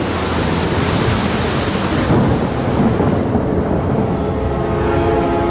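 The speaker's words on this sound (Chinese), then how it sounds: "只是凑巧撞上打雷天而已" Loud, deep rolling thunder rumbles continuously and gradually fades, with a wash of rain-like noise and no voices.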